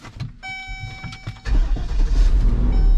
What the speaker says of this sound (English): I don't know if this old girl's going to start up.